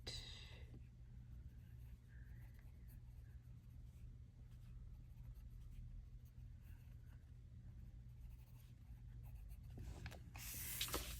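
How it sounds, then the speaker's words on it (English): A Prismacolor colored pencil moves lightly across paper in soft, continuous scratchy strokes, close and quiet, with no talking over a low steady hum. "Just barely touching your pencil over that area, very light."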